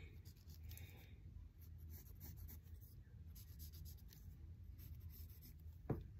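A pencil sketching arms on paper, a soft continuous scratchy rubbing of strokes close up and quiet, with a faint voice in the background and one brief squeak near the end.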